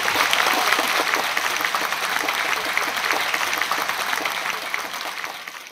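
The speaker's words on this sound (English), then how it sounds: "Let's give him another round of applause." A crowd at an English-language book launch held by video conference gives Clint a sustained round of applause. Dense, even clapping continues for the whole stretch and thins slightly at the very end.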